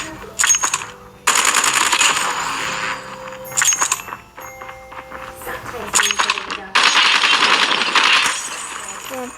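Rapid automatic gunfire bursts from the video game Call of Duty, loud and repeated in several long volleys with brief gaps between them, crackling and metallic with clinking shell-like rattles.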